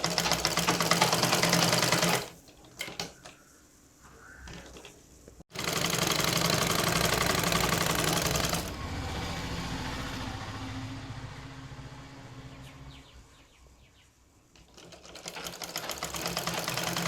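An electric sewing machine stitches a churidar top in bursts. Loud, rapid motor whirr and needle chatter run for a couple of seconds, pause with scattered clicks, then run again for a long stretch before slowing and restarting near the end.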